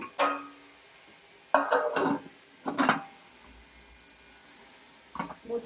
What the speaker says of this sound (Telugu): ఇంక మూత పెట్టేసుకుందాము.